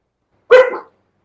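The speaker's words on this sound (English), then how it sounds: "Dogs are freaking out." A dog lets out a single loud, close bark, sharp and short, with no other sound around it.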